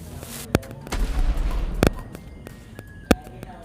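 Several sharp, isolated gunshots crack out at irregular intervals in the horror video game Baby in Yellow, over a quiet background with faint low rumbling between them.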